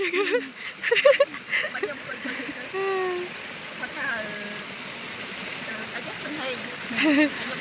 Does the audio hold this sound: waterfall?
yes